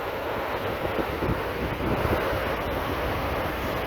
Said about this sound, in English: You can see the river is pretty raging. Pretty noisy.